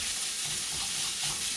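Oil sizzles and crackles steadily in a hot pan while ingredients for spicy pumpkin pork noodles cook, a dense continuous hiss close up with faint stirring underneath and no talking.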